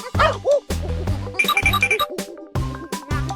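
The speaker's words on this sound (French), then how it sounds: "Ah, c'est le petit chien mignon et adorable." A small cartoon dog yips and barks in quick bursts, high and bright, with bouncy musical accents between the barks in a lively animated scene.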